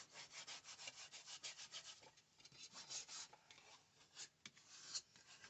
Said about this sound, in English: I think I will use my Cricut scraper to get in those corners really well.